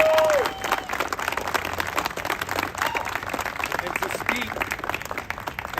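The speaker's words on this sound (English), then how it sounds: "let's just give a round of applause for everybody with Bravest for Choice" A crowd at a rally bursts into sustained applause, dense clapping continuing steadily at close range with some scattered voices mixed in.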